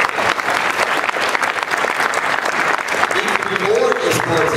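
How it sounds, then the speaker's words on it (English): Loud sustained applause from a large crowd at a TwitchCon esports panel, dense clapping throughout, with a voice rising briefly near the end. "Let's get a round of applause for that."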